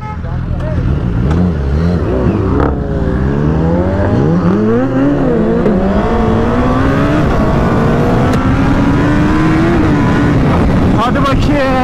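Honda 1000RR sport motorcycle accelerating hard from a start, engine pitch climbing through rising revs and gear changes, loud and close with wind noise, while a rider talks over it.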